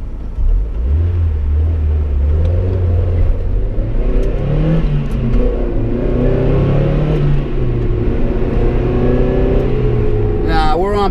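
Mazda MX-5 Miata engine revving at moderate RPM on a public road, a continuous rumbling drone with rising and falling pitch and someone talking over it throughout.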